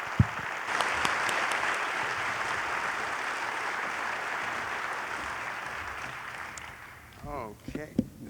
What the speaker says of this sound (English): join me in giving a warm round of applause to Doug Kelbaugh